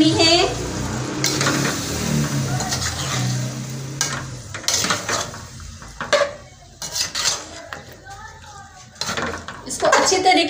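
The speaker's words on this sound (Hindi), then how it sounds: "इसको अब हमने दही के साथ भुनाई करनी है।" Potato curry stir-roasted with yogurt in a pan, with bursts of sizzling and clattering spoon-on-pan scrapes and knocks, close, alongside intermittent speech.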